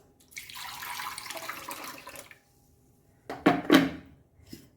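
Water pours steadily for about two seconds into a Goan prawn bimbli curry, followed by a pause and a couple of short splashy clatters in the pot.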